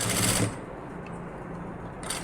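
A sewing machine runs a short, steady burst of stitching while putting a patch on an already stitched blouse. The whir is close and continuous, and there is no talk over it.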